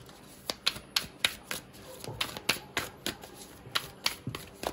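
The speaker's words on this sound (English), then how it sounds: "So bear with me as I shuffle." Crisp riffling bursts of a very large deck of cards being shuffled, repeated quick snaps in an uneven rhythm, close and fairly quiet.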